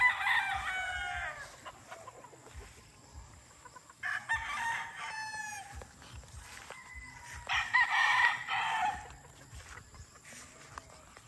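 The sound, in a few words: gamefowl roosters crowing and clucking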